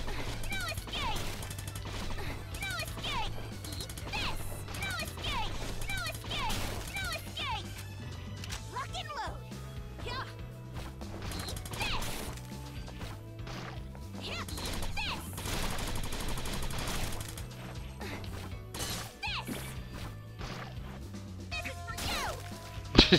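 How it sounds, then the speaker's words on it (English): Rapid gunfire and impact crashes from shooting an enemy in the side-scrolling action game Grim Guardians: Demon Purge, dense and continuous over a steady game music bed, with a louder burst at the very end. "I could probably just shoot it from here."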